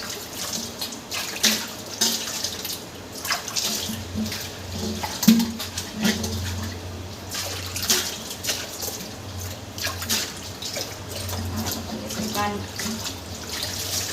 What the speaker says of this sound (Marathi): मग नंतर भांडे घासून घेते